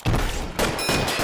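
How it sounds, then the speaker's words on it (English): Gunshots in LA Noire, two quick loud blasts close together, each followed by a short rattling tail, heard alone. "Notice how you could actually shoot without reloading."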